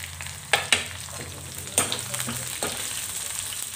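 Chopped onion and ginger-garlic paste fry in oil with cumin seeds for sambar, a continuous close sizzle with a few sharp spoon clicks and stirring scrapes against the pan.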